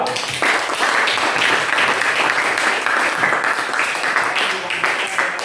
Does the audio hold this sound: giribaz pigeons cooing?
no